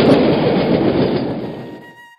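A passenger train rushes along the track in a loud, dense roar with faint clattering, steady then quickly fading away to silence.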